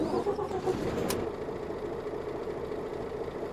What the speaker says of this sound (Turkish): Hadi bakalım bir marş yapalım. Motor sesini hep birlikte dinleyelim.